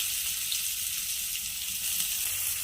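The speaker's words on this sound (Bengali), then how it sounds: "তেলটা গরম হয়ে গেছে আমি পেঁয়াজটা দিয়ে দিয়েছি" Onion frying in hot oil in a wok, a dense, even sizzle held at close range for the whole stretch with no voice over it.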